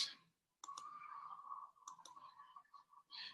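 A mouse click on a Submit button while confirming a commission transfer: a few sharp, close clicks separated by brief pauses, with a steady tonal hum between them and no talk.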